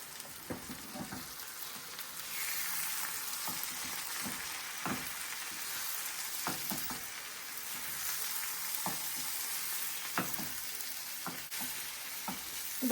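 Cluster beans sizzle and fry in a pan with chili powder as they are stirred, a steady soft frying hiss punctuated by light scraping clicks of a spatula, quiet and close with no voices.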